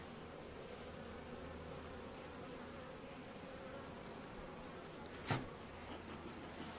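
Caucasian and Carniolan honeybees at a winter-ready hive give off a steady, soft droning hum that holds evenly throughout, with one brief sharper buzz as a bee passes close near the end.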